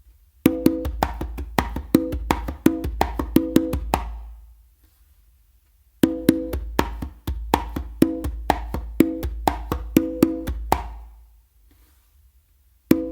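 A full slappy tumbao on conga in two long, steady phrases of dense hand strokes mixing deep bass thumps, sharp slaps and ringing open tones, close and unaccompanied, separated by a brief silence.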